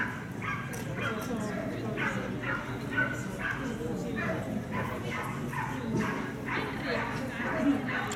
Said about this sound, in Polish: Się drą te psy.